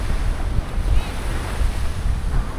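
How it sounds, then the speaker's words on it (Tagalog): Rough sea waves off Isla de Gigantes surge and wash steadily with heavy wind rumble buffeting the microphone, a loud continuous outdoor roar with no clear breaks. "So ito yung maalon."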